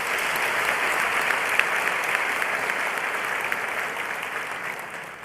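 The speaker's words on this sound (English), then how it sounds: "I would like you to take an opportunity in giving yourselves a big round of applause" Audience of new students applauding at a university welcome ceremony, a broad, sustained roar of many hands clapping in a large hall, even and full from start to finish.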